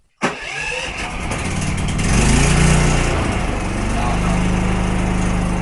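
A small portable generator jumps to life abruptly and keeps running at a loud, steady drone, revving slightly higher partway through, close by.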